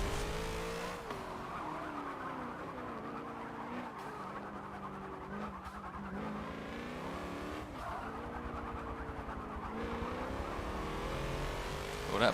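A Mustang race car in Forza 7 roars steadily through its gears, engine pitch rising and falling with shifts while tires squeal under hard cornering, loud and continuous throughout.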